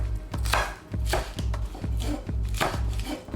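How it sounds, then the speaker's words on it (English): A knife slicing green onion on a cutting board, a run of close, firm chopping thuds in an uneven rhythm, each with a short crisp cut. "Slice the green onion,"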